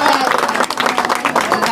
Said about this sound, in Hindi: जोरदार तालियों से बहन जी का स्वागत करा जाए